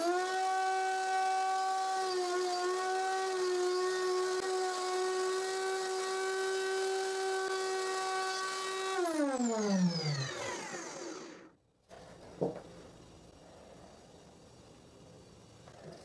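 Router cutting curved dovetail sockets in a wooden board on a table: a loud, steady high-pitched whine that holds for about nine seconds, then winds down and stops, followed by faint handling noise.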